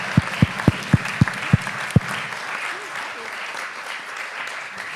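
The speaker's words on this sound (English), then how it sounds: "huge round of applause for our speakers." A conference audience applauds its speakers, starting with a few sharp, evenly spaced claps that merge into steady, dense clapping from a roomful of people, fairly close and continuing to the end.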